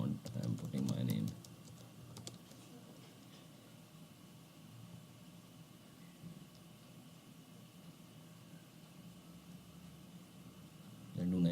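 Quiet, steady tapping of a computer keyboard as a root password is entered during a SUSE Linux installation, light keystrokes running for several seconds, with brief talk at the start and end.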